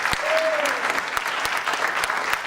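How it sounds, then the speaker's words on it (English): Crowd at a comedy show in a performing arts center clapping steadily, a full sustained applause with a brief whistle early on and a few sharper claps standing out. "Give yourselves a round of applause for coming out for this tonight."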